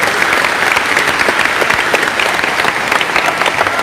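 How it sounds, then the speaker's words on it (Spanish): Loud, sustained applause fills a church assembly as many people clap together in a dense, even roar with scattered sharper claps. "Un aplauso para el hermano."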